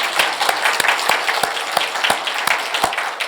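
A church congregation applauds steadily at the end of a Sunday sermon, a dense patter of many hands clapping at once, fairly close and loud throughout.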